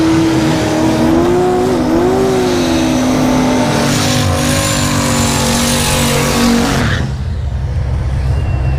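No-prep drag race launch between a turbocharged and a supercharged Mustang, one of them the teal car: loud, sustained engine roar with rising and wavering whines as both cars pull hard, then the sound shifts abruptly as they pass, with no talk.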